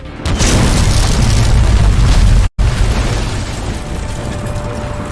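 Loud, deep booming explosions rumble continuously during Battlefield gameplay, broken by a brief silent gap midway before the blasts resume and gradually fade.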